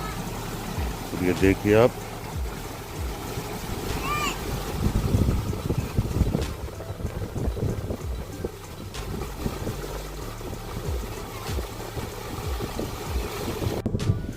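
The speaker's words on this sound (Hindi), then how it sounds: "हमारा ट्यूबवेल कैसे चल रहा है" A tubewell pump running on a spinach farm field makes a steady, rough rumble with wind buffeting the microphone, while someone talks over it for most of the stretch.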